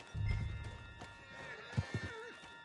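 A horse in Red Dead Redemption 2 whinnies and neighs loudly near the start, with clip-clopping hooves and snorts following, alongside faint game music tones and a brief voice in the background.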